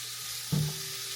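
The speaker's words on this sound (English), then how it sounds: "I'm going to saute these veggies until they're cooked thoroughly." Vegetables from a bag sautéing in hot oil for fried rice give a short burst of sizzle just past the midpoint, over a steady low background hiss.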